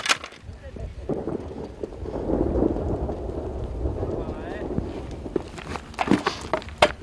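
Rain and sleet falling with thunder rumbling during a storm at military frontline positions, steady broadband pour with low rolls and some footstep-like thuds, muffled voices faintly present.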